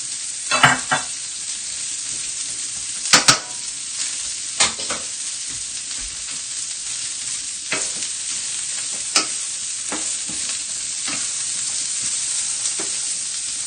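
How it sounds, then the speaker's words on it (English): Long grain rice boils in a pot with continuous bubbling and hissing, broken by occasional sharper clicks and knocks, heard close and alone without any voices. "I see your rice is boiling."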